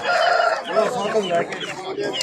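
Chickens cluck and cackle close by at a market, with overlapping calls and higher peeps from chicks, busy and continuous.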